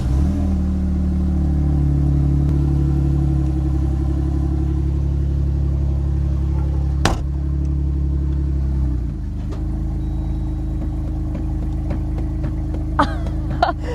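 A Jeep JKU engine runs loud and close, a steady low rumble with a brief revving swell, then a sharp click and the idle dropping to a lower, quieter drone.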